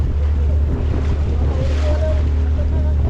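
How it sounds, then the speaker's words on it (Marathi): Steady low engine rumble of a boat on the open sea near Khanderi fort, with wind and splashing waves throughout, loud and close. "इथे भरपूर बोटी आहेत एक समोर सुद्धा मोठी बोट आहे बघा"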